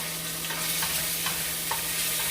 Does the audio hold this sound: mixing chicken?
yes